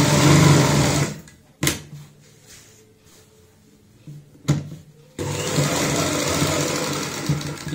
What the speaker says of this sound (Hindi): हम ऊपर से यहाँ पे सिलाई लगा लेते हैं इस तरीके से, किनारी की सिलाई लगा लेंगे।